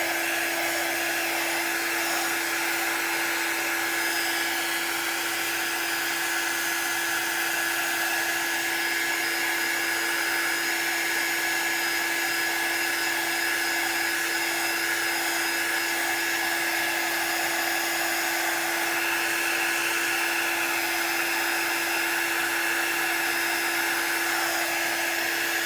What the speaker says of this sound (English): We want to dry it completely.